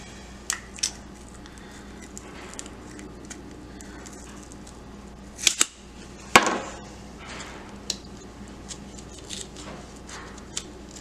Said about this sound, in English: I'm just trying to perforate that top layer of cardboard there.